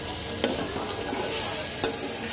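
Shrimp frying in a little oil with spices, a soft steady sizzle with a couple of faint stirring clicks, quiet and close.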